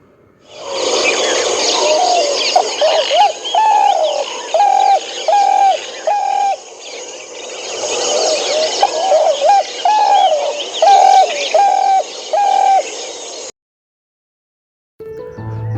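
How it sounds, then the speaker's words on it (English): A spotted dove gives repeated soft cooing phrases in steady groups, close and clear over faint chirps from other birds, with a brief pause before a short final burst. "Call of spotted dove."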